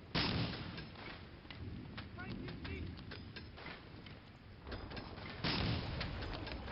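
Tank cannon and gunfire in the World War II shooter Medal of Honor Spearhead, dense rolling blasts and rapid shots layered into a constant battle din, with someone talking over it.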